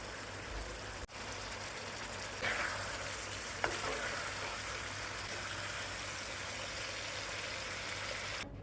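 Drumstick curry cooked with mustard sizzles steadily in a pan as it is stirred, a continuous close frying hiss with a sharp knock near the start and a few faint scrapes.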